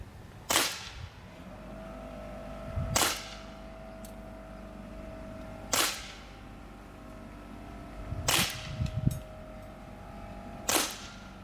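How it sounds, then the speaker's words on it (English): Five sharp pops from a Sig Sauer P320-X Carry .177 blowback semi-auto CO2 BB pistol, spaced roughly two to three seconds apart, over a steady background hum, with small rattles after some shots. "after shooting one more practice group freehand, it was time for some real life training scenarios"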